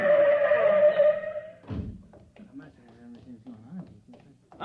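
A thrown rock strikes its target in a science-fiction radio drama: one dull, low thunk lands after a tonal opening, followed by soft scattered voices and movement.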